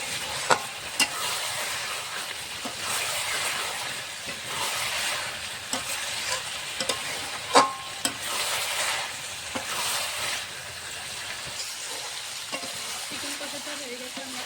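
Chicken kosha stirred and fried in a pan, a steady close sizzle broken by repeated clinks and scrapes of a spoon against the metal, with no voices.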